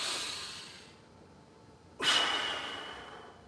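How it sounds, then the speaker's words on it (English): After a martial arts workout at home, a slow, soft breath fades out, then after a pause a sharper, louder exhale or sigh rushes out and slowly trails away, close and alone without talk. "After you work up the sweat, slow the breathing down with me again."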